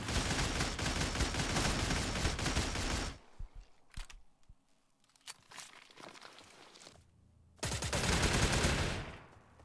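Rapid gunfire bursts in the video game StalCraft, a dense volley of shots for about three seconds, then scattered single shots and clatter, then another sustained burst of fire near the end.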